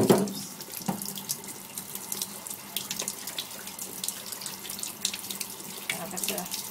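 Tap water runs steadily into a sink while a bar of soap in a mesh soap saver bag is held under it, a continuous close splashing rush with a few small knocks and clatters.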